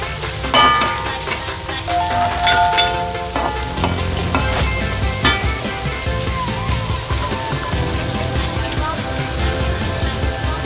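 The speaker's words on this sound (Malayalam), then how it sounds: "ഇനി നമുക്കൊന്ന് ഇളക്കി അനക്കിയിട്ട് കൊടുക്കാം" Banana chips frying in oil, a dense bubbling sizzle with repeated metallic clinks and scrapes from stirring, loud and close throughout.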